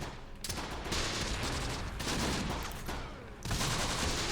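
Dense, continuous gunfire from the Close Combat The Bloody First video game in a battle in the Italian hills, overlapping bursts of shots with brief lulls, loud and close, without speech.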